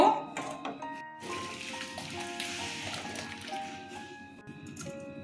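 Chhana curdled from milk with vinegar being strained through cloth, a liquid squish and trickle of whey with soft dripping and wet handling.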